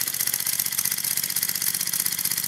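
A small homemade spool valve steam engine kept as a workshop engine runs on its own, close by, with a fast, even chugging that holds steady throughout.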